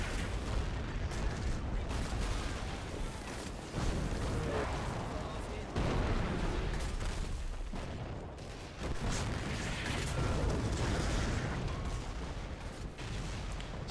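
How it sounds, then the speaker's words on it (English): A Hotchkiss gun fires repeatedly during a 1940 German armoured assault on France in Men of War: Assault Squad, heavy booming shots at irregular intervals amid dense battle noise, with someone talking over it. "That's a Hotchkiss gun right there. That is making an awful lot of noise"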